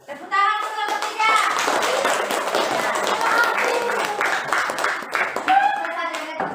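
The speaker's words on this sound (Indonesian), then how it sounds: "Tepuk tangan untuk kelompok 3." Classmates clap for a presenting group in a classroom, bursts of close hand claps mixed with children's voices talking and calling out, rising and falling in uneven waves.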